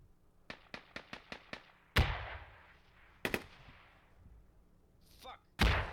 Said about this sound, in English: Grenades exploding in the fields, but OMBD close to the walls in great cover. More explosions.